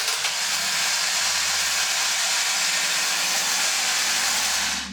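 A vintage Japanese Super Giant toy robot runs steadily after a few drops of oil, its motor giving a loud, continuous whirring hiss close by that stops abruptly at the end.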